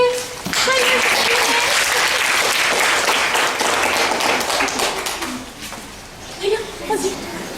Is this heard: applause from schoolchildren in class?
yes